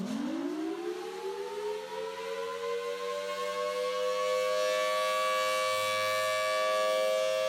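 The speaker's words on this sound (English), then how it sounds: "That is the Federal Signal Thunderbolt siren." A Federal Signal Thunderbolt mechanical siren winds up from a low growl into a loud, sustained wailing tone that rises steadily and then holds at full pitch, heard without any talking.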